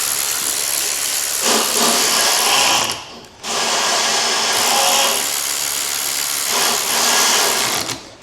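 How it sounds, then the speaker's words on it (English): A powered ratchet tightens bolts on a new bike during assembly, giving a steady, loud mechanical whirring buzz in two long bursts separated by a brief pause. "that ratchet's not powerful enough to cause any issues"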